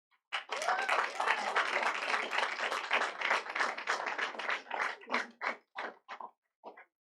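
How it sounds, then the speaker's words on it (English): Audience applause fills a council meeting chamber, a dense burst of clapping from many people that thins out into scattered individual claps before fading near the end. "there are a lot of people applauding both sides of the debate"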